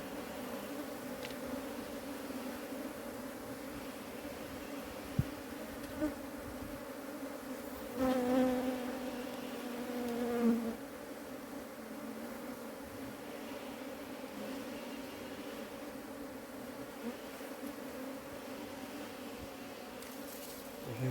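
A steady, droning buzz of many wild honeybees in a forest fills the whole stretch, a dense swarm hum that swells briefly louder midway.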